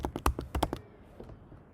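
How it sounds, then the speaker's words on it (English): A quick burst of about seven crisp keystrokes on a computer keyboard as a speedtest-cli command is typed, close and clear, then a quiet pause. "Just type"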